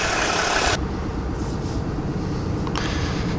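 A 2021 Ram 2500 pickup engine runs with a steady low rumble throughout, heard from inside the cab at night while driving, with a loud rush of broadband noise at the very start that drops away.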